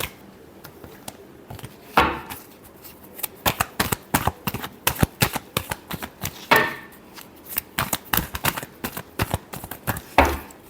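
A deck of tarot cards is shuffled close up in a long run of quick riffling clicks and flicks. Louder bursts come at a few points as the cards are bridged and squared.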